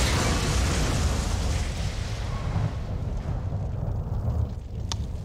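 A rumbling explosion from the Parasite Eve 2 video game fills the clip with a dense, loud roar that stays broad and steady for over five seconds, with a sharp crack near the end.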